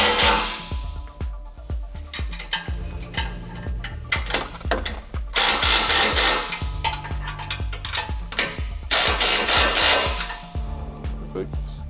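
A ratchet tightens bolts on a bumper during an install on a 2024 or later Toyota Tacoma, giving rapid repeated clicking bursts with pauses between, close and loud, with some mechanical rattling.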